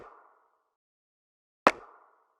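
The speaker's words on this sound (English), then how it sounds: "we have the snare. On the snare, I've used the layering technique as well." A single sharp layered snare hit, blending a snare with a rim and a snap, with a short rattling tail, preceded by the fading end of another hit, isolated against silence.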